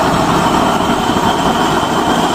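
A used-oil burner chamber roaring during a test fire, a loud, dense, steady roar close up that holds unbroken throughout, with no talk.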